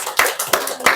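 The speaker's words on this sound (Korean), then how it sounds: "우리 환영의 박수 한번 보내드립시다" Church congregation clapping in welcome, a few strong, evenly spaced hand claps close by, sharp and bright.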